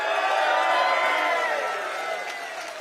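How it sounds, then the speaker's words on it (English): A rally crowd in St. Catharines cheering for Tony Baldinelli, a loud dense wash of voices, whoops and clapping that holds steady and then eases slightly as it goes on. "Give him a round of applause."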